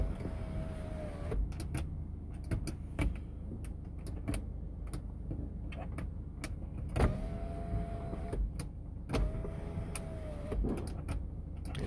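Sunroof motor on a 2019 Subaru Outback SUV running inside the cabin, a soft electric whirr in several short bursts with clicks between them, close and fairly quiet.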